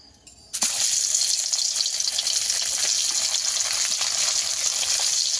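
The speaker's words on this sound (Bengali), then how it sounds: "তেল ভালো মতো গরম হয়ে গেছে, এবার একে একে ডিমের পিসগুলো দিয়ে দেবো" Pieces of egg dropped into hot oil in a pan, breaking into a loud, steady, hissing sizzle that holds evenly after a brief quiet start.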